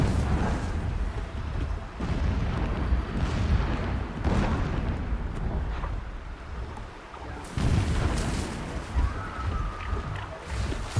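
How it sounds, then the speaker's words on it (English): Distant explosions rumble in Horizon Zero Dawn, a dense, continuous low booming roar with repeated heavy bursts rolling over about eleven seconds, fairly loud and layered, with no clear talk. "explosions in the distance"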